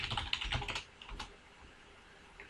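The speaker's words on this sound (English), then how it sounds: "I'll type in the password of password" Quick, light keystrokes on a computer keyboard as a password is entered, a brisk run of close clicks that slows and fades, with a final tap at the end.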